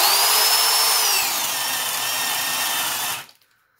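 A 7/8-inch spade bit bores into wood under a power drill, a loud steady high-pitched whine with a shifting tone that cuts off sharply near the end, with no talking over it.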